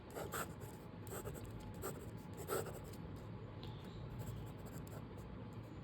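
A pen writes answer points on paper close by, giving quiet scratchy strokes in short uneven bursts with brief pauses between words.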